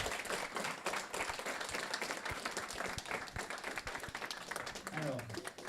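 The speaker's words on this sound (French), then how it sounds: "Je pense qu'on peut l'applaudir." A seated audience at a French business presentation applauds in a thick, continuous wash of claps, with voices talking over the clapping throughout.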